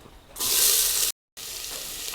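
Chopped onion hits hot sunflower oil with a loud, bright, steady sizzle that cuts out abruptly for a moment, then resumes slightly softer.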